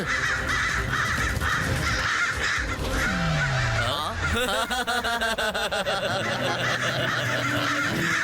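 A cartoon crow in the Tamil animated action series Rudra caws loudly and repeatedly, mixed with snickering, chuckle-like voices and busy cartoon sound effects.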